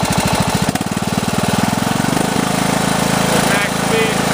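A Toro lawn tractor engine is revved from a rough idle up to maximum speed, its loud pulsing chug quickening into a steady high drone, close to the microphone.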